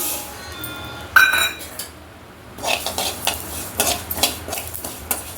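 Sesame seeds roast in a pan over a low flame while a spoon stirs and scrapes them. Clinks and rattles come in uneven bursts, loud and close.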